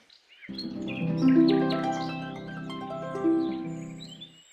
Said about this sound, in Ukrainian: лине ластівка над полем